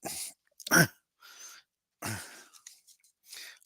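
A man coughs in a few short, harsh bursts separated by quiet gaps, close to the microphone, while calling a simulated 1961 baseball game.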